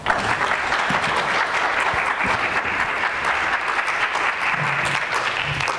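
A lecture audience gives steady, dense applause to welcome the archaeologist Dorian Fuller, sustained clapping from a full room at even volume throughout.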